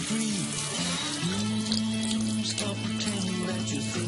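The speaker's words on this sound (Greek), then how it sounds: "Το παίρνεις και το βρέχεις με νερό." Water runs from a tap in a steady stream, with the flow shifting as a cardboard toilet paper tube is held under it and wetted nearby; a voice speaks briefly.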